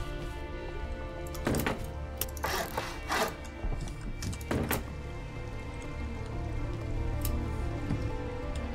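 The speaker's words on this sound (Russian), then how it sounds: "Дождя нет, дождь есть." Soft rain patters steadily in the survival video game Rust, a faint continuous hiss broken by a few sharp, louder knocks or thuds near the middle.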